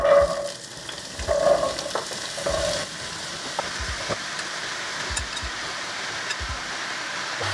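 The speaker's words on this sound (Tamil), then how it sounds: "பீன்ஸ் இந்த 3ஐயும் வதக்கி வைக்க போகிறேன். கொஞ்சம் லைட்டாக எண்ணெய் விட்டு." Beans and carrots sautéing in a little oil in a pan give a steady, close sizzle, with stirring scrapes and a few louder spits near the start.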